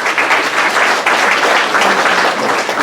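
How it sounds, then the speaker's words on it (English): An audience at a morning business community meeting claps in a dense, sustained burst of applause, steady and loud throughout with no pauses. "Coach Harrison, please give him a round of applause."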